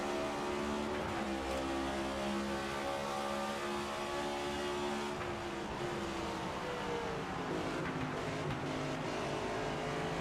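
A race car engine in the NASCAR 25 video game drones loudly and steadily, its pitch shifting as it revs up and down throughout.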